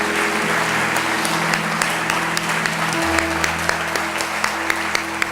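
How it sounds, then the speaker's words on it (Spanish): A church congregation applauds during a service, producing continuous clapping over sustained instrumental tones, with some sharp individual claps standing out. "Dele un aplauso al Señor en esta tarde."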